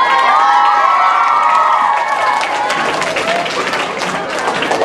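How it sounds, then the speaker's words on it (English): Second-grade children cheer loudly and shout in excited high voices at their class president's inauguration, with scattered clapping mixed into the crowd noise. "Let's cheer for our president."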